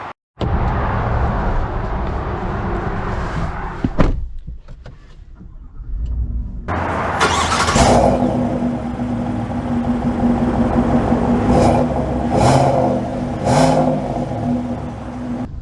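A 2024 GMC Sierra 1500 Denali Ultimate pickup truck fires up with a sharp start and then hums and revs steadily as it drives off, a loud close engine note with a few rising surges.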